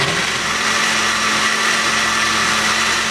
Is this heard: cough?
no